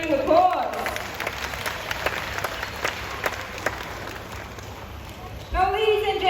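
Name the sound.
audience applause at a bird show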